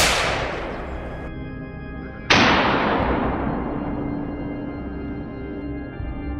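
A single sharp gunshot aimed at a fleeing wild boar in a farm field cracks out loud near the middle, its echo slowly fading over steady outdoor background noise.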